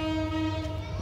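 A train horn sounds at a railway station in Akhaura, Bangladesh, a steady, loud, tonal blast holding for the whole short moment.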